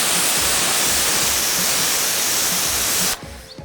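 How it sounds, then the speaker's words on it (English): A garden hose sprays water steadily onto a ceramic-coated, vinyl-wrapped car, giving a loud, close, continuous hiss that cuts off abruptly near the end. "Now, let's hose it down"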